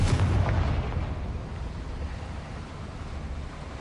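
A Confringo blasting-spell explosion in Hogwarts Legacy, a loud booming burst that rolls off into a rumbling decay over a few seconds, alone without talk.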